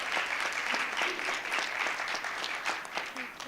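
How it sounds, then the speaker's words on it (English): A wonderful round of applause for a student scholar at a school board meeting, a crowd clapping loudly and steadily for the whole moment, with a few faint voices mixed in. "Let's give our scholar another wonderful round of applause."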